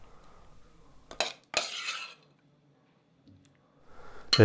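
A metal spoon scrapes and clinks as creamed new potatoes are served into a small copper pot, with a few sharp knocks, a brief scraping stir, then a quiet pause before more clatter.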